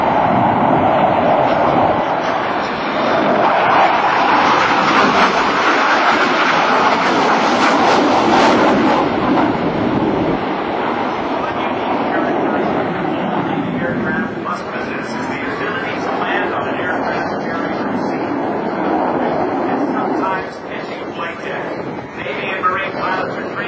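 An F/A-18C Hornet jet flies a demonstration at the 2007 NAS Oceana airshow, a loud, broad roaring rush that swells and shifts over time, with an announcer speaking over it.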